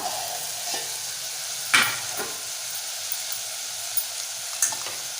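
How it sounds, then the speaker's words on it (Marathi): Spicy chicken frying in a pan is stirred, giving a steady soft sizzle with a couple of sharper scrape-like clicks from the spoon, close and alone with no talking. "एकदा परतून घेऊया"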